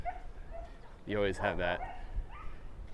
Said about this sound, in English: all the dogs are going nuts.